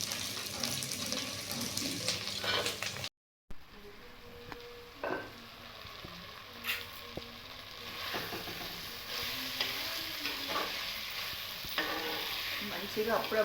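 Ivy gourd and coconut pieces frying in a pan: a quiet, continuous sizzle with intermittent scraping stirs and occasional light clinks of the utensil, close by, with a brief silent gap early on.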